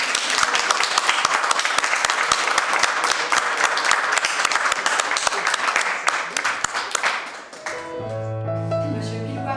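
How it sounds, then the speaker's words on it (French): Guests at a civil wedding ceremony applaud the newly declared couple, a crisp burst of many hands clapping that fades after about seven seconds as music with sustained tones takes over. "On peut les applaudir."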